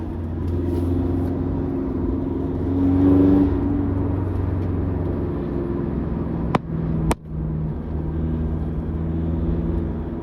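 A remapped Toyota Vigo Champ pickup engine rumbles steadily from inside the cab, its revs rising and swelling as it accelerates, with two sharp clicks near the end.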